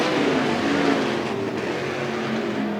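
Sprint cars of the Interstate Sprint Car Series roaring around Willamette Speedway after a green flag restart, a dense, continuous engine drone filling the track without a break.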